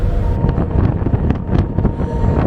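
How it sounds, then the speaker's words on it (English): Strong wind buffeting the microphone outdoors in Punta Arenas, Chile, a loud continuous low roar with gusty fluctuations and no voices. "So it's very windy, you're not going to hear me"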